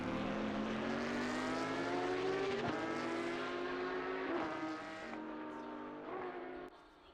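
Race car engines in a racing game, a Porsche GT3 Cup and a GT4, drone loudly at high revs with rising and falling pitch as they run close together, then fade slightly toward the end.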